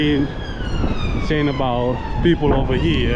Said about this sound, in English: That's okay, that's the ambulance. It's the ambulance there.